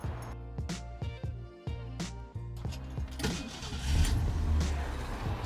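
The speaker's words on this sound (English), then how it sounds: "Let me start it up so you can hear it." A 1967 Mustang's 289 V8 cranks in repeated rhythmic starter turns, catches, and settles into a rumbling idle, heard close and fairly loud.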